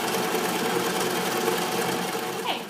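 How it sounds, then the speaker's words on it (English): Sewing machine stitching ribbon onto fabric, a steady, loud, continuous whirring hum with a fast mechanical rhythm running unbroken from start to finish. "then we'll take it over to the sewing machine"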